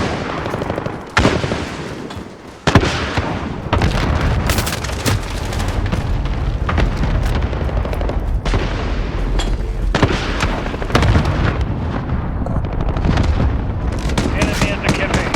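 Heavy airstrike explosions in Call of Duty boom repeatedly amid gunfire, loud and close, with a voice talking over the battle.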